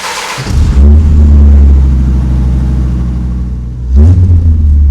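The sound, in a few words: Dodge Viper RT/10 engine starting, side exhaust, no cats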